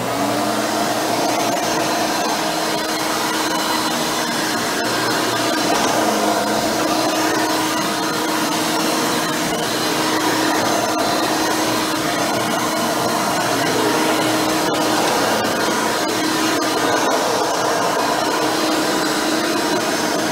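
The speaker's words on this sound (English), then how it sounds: "So let's finish up vacuuming and then we'll show you the end results." A Hoover Turbopower 4000 vacuum cleaner with a 20-blade fan impeller running steadily while vacuuming, a loud continuous motor whine and airflow roar with slight shifts in tone as it moves, no talking.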